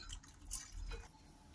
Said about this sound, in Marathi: थोडं थोडं करून टाकते मी पाणी, एकदमच नाही टाकायचं